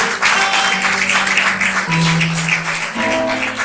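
A church congregation at a Nazarene service in Mariópolis claps together, a dense, loud wash of applause with sustained tones, likely music or voices, shifting underneath.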